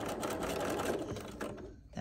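Sewing machine running steadily at close range while stitching a pillow with pom-pom trim, a continuous rapid whirring drone that eases off near the end.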